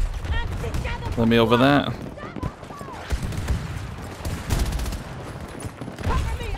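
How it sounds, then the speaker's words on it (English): A sentry gun in Battlefield 2042 fires rapid bursts of automatic gunfire, mixed with other battle noise and a player talking over it. "Oh, no, sentry gun."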